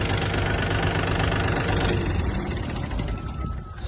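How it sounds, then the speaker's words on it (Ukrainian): A Japanese Yanmar AF-22 mini tractor's small diesel engine runs loudly and roughly nearby, then its note drops and fades as it is switched off near the end. "Ну і глушиться трактор"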